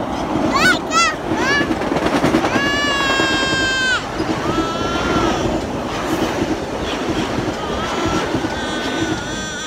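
A train rumbles past close by, wheels clattering steadily while its horn or whistle sounds in several drawn-out, tonal blasts over the noise.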